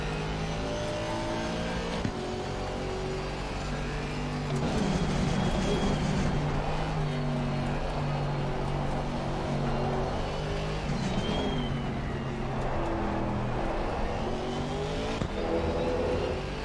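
A GT3 race car in Assetto Corsa Competizione drones through its gears, its exhaust note rising and dropping in long sweeps as it accelerates and lifts off, loud and continuous throughout.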